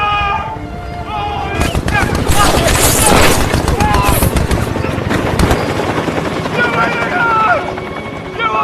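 Military helicopter passing overhead, its rotor chop swelling loud through the middle and fading again, with a low rumble and scattered sharp bursts that may be gunfire.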